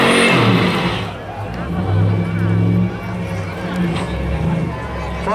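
A small-block Chevy 5.7-litre American V8 roars hard as it accelerates from 0 to 60 at an outdoor emergency-vehicle show, loud and close, with engine pitch rising and falling through gear changes over crowd noise.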